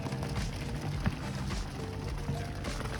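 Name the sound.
rain starting to fall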